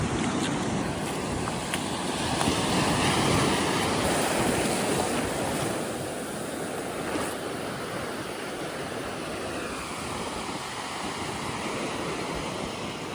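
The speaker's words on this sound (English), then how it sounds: "Another beautiful beach around here." Waves break and wash over a beach at Apollo Bay, a continuous broad roar of surf mixed with wind buffeting the microphone, steady and fairly loud with no voices.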